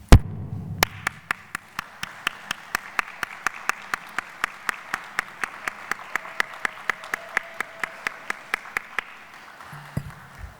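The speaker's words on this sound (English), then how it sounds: "Lots of people will be clapping for them during the course of this ceremony" Audience applause at a fall graduation convocation for a college of public health, a steady wash of clapping with one nearby clapper striking sharp, evenly spaced claps for about ten seconds before it fades.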